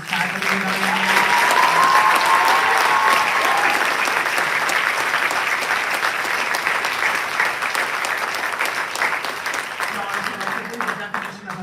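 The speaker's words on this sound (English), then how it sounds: "Can y'all help me give one more round of applause for the faculty medallion?" Sustained audience applause fills a senior awards ceremony, a dense steady wash of clapping that holds loud for over ten seconds and fades slightly toward the end.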